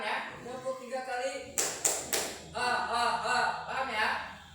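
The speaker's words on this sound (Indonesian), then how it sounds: "Tepuk 3 kali." Students clapping in unison on command during a classroom coding lesson, three sharp claps in quick succession, with a teacher talking before and after.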